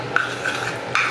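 A tiny piece broken off a contour makeup product is rubbed and mixed, giving a few short dry rasping scrapes, close and fairly quiet, with no talking.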